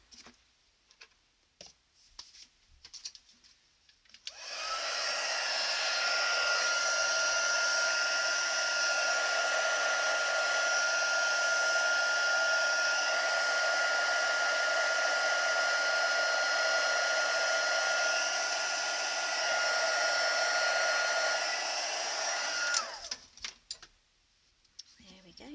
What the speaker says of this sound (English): Our heat tool should still be heated up, so just a bit of gold embossing.